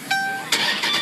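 A Chrysler 300C with an aftermarket exhaust starts up: a brief whine of the starter, then the engine catches with a throaty burst and settles, heard close and fairly loud.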